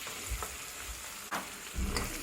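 Vegetables such as capsicum, corn kernels and beans sizzle in melted butter with cumin for a Gujarati-style pasta, a steady close frying hiss with a few stirring scrapes.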